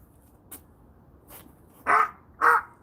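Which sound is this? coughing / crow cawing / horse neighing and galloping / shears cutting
crow cawing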